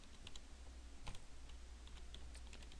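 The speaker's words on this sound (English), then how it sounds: "up here in cell B1 we're going to type in" Soft keyboard clicks come in scattered taps over a low steady hum while a word is typed into a spreadsheet cell, quiet and close with no talking.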